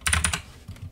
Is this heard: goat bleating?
no